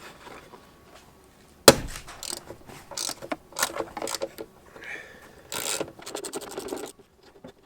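A ratchet tightens bolts on a Jeep TJ heavy-duty tire carrier, with one sharp knock, then irregular scraping and clunking bursts and a quick run of rapid clicks near the end, all close by.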